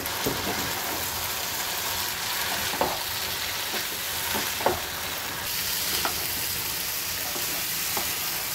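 Ground spices, including turmeric, fry in oil for a cauliflower, potato and pea curry, giving a continuous, dense sizzle like light rain. Scattered ladle taps and scrapes punctuate the steady frying, and nobody talks.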